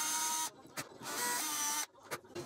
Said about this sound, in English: Now to drill some holes for the screws.